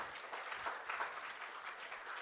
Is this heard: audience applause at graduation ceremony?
yes